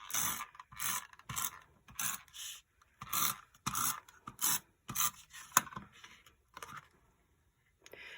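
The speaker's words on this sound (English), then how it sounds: "I'm just going to use tape runner." A tape runner lays adhesive onto a greeting card in a quiet series of short, rhythmic clicking and rasping strokes, about a dozen bursts separated by brief pauses, close and soft.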